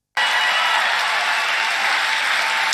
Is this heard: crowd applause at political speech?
yes